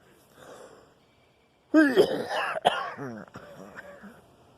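A faint murmur, a short pause, then a close, loud run of rough coughs and throat-clearing sounds that taper off.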